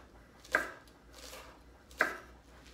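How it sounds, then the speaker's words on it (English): A knife cuts thin diagonal slices on a board while tabouli salad is made. There are two distinct soft chops about a second and a half apart, each a clean close thud, with quiet room tone between them. "I am recommending that you're cutting this on the bias, meaning that it's going to be at a diagonal"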